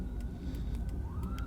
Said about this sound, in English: as I hear an ambulance, or what is that? A Norwich Fire Department.